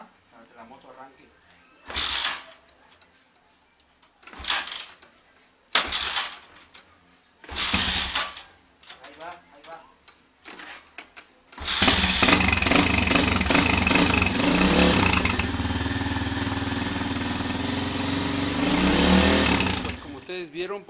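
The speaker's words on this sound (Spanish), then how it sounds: "dejar caer todo nuestro peso sobre la palanca o patada para que la moto arranque" Several sharp mechanical thumps from repeated kicks on the kick-start lever, then a 200–250 cc motorcycle engine catches and settles into a loud, steady idle.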